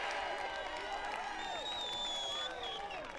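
German fans cheer from the bleachers in Lecco during an under-age ultimate frisbee semifinal against Canada: a dense, continuous crowd roar with whoops and whistles rising throughout.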